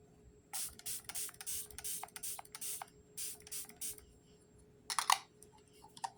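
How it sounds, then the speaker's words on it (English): A Charlotte Tilbury Miracle Flawless Setting Spray bottle is pumped close by in a rapid run of short hissing bursts, then a pause and two more quick sprays. "this is the Miracle Flawless Setting Spray"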